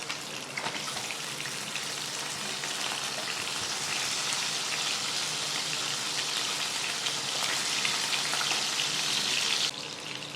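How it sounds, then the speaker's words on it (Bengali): Whole bata fish, their bellies full of roe, sizzle and crackle steadily in hot oil for a home-style mustard fish dish, a dense continuous hiss running to the end with no talk. "মাছগুলো 2 পিঠ ভাজা হয়ে গেলে আমি এক এক করে তুলে রাখছি"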